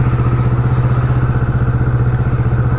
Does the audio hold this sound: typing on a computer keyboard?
no